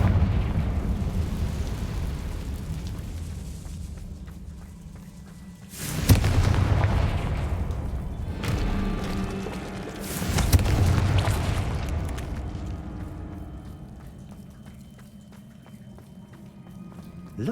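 A Confringo blasting spell goes off in the Hogwarts Legacy video game as two loud, booming explosive bursts about four seconds apart, each swelling and then fading into a low rumbling background.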